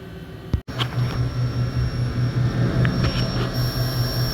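A CNC machine with a down spiral tool cuts an acrylic jig, producing a loud, steady whirring drone with a pulsing low hum and occasional sharp ticks, plus one brief knock near the start.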